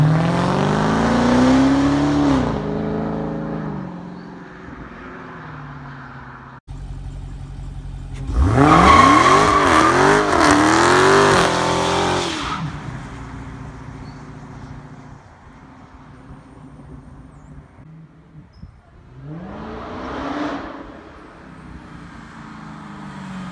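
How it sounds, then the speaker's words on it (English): Loud 2019 Dodge Charger or Challenger Hellcat in sport mode doing a tire-smoking burnout, its V8 roaring and revving in a strong central burst with tire squeal, after and before quieter idling and rumbling. "how about a quick gratuitous tire smoke shot?"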